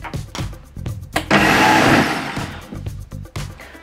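A blender gives corn cake batter a quick pulse to work in baking powder: one short, loud whirring burst that rises and then cuts off.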